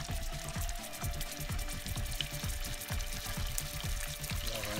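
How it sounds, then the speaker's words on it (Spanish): Small pieces of pork cheek are dropped into hot, golden frying oil, giving a continuous close sizzle and crackle with repeated plopping additions and no talking. "Tenemos ya nuestro aceite que está doradito como el oro del bueno, no del falso. Y empezamos a echarle nuestros trocitos de carrillera."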